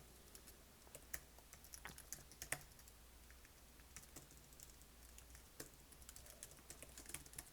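Quiet keystrokes on a computer keyboard, a steady stream of light clicks with a few louder taps, close and alone.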